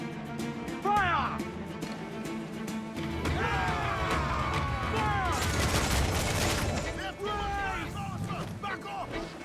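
Naval cannons on a pirate ship in Assassin's Creed Black Flag fire in a rolling volley of booms and crashes over sea and crew noise, loud and sustained, with voices shouting under the barrage.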